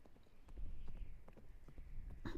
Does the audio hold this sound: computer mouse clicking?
no